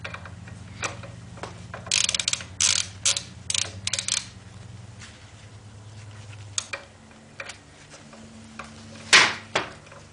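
A ratchet snugs the final drive bolts on a BMW K75 motorcycle, with a series of quick clicking bursts up close over a low background hum and a sharper clatter near the end.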